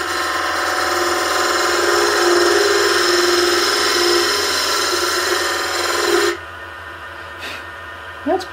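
A wood lathe turning coves, the gouge riding its bevel against the spinning workpiece, gives a steady loud scraping hum for about six seconds, then cuts off into near quiet with a couple of faint knocks.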